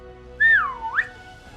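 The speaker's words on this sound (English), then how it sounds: "Lifting her fingers to her lips, she whistled sharply." One sharp, loud finger whistle swoops downward, then flicks back up at the end, standing alone against a quiet background.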